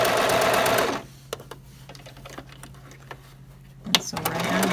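A Gemini Stitch sewing machine sews fabric, running in a loud fast whir for about a second, then falling to quieter intermittent clicks and mechanical taps.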